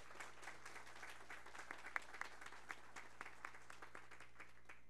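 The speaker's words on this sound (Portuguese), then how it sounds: "a salva de palmas para o Coronel Visacro" Soft, somewhat distant applause from a ceremony audience honoring Colonel Visacro, a steady patter of many hands with a few sharper claps standing out over a low room hum.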